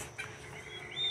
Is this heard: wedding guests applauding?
no